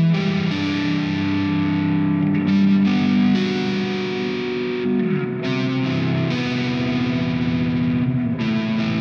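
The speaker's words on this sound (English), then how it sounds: "The Space Echo preset is a massive, cavernous reverb sound." A drop-E tuned guitar played through the ML Sound Lab Amped Icon Space Echo preset rings out in sustained, heavily effected chords, with a huge cavernous reverb and echo tails that wash together loudly.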